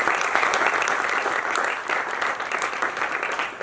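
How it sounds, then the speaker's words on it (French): A burst of applause from a crowd, dense clapping that holds steady, then thins slightly near the end. "je vous prie vraiment de faire un tonnerre d'applaudissements pour ce cas"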